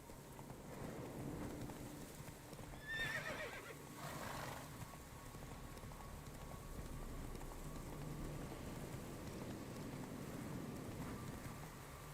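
Roach, the horse in The Witcher 3: Wild Hunt, lets out one shrill neigh over a soft steady wind, followed by a faint, muffled flutter and quiet ambient noise.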